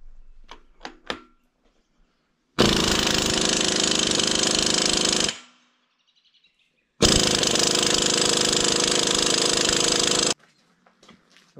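Old Ingersoll Rand Titanium air impact gun running on a 1.5 inch socket, two long loud sustained hammering bursts close by, separated by a silent pause, with faint birdsong in the quiet moments.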